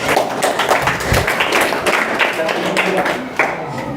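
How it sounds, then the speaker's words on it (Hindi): Children clap together for themselves at a school class celebration, a dense, steady patter of many hands near and fairly loud, with voices mixed underneath. "एक बार बच्चे अपने लिए ताली बजा दें"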